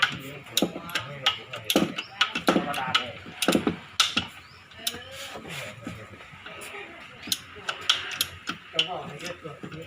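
Ratcheting clicks and metallic tool noises from a torque wrench tightening clutch bolts during a car clutch plate replacement, irregular bursts close by, with someone talking over them.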